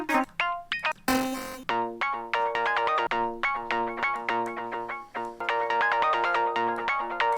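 A bright synth arpeggio repeats one note in a steady, quick pulsing rhythm, with a short noisy burst near the start, loud and clear with no voices.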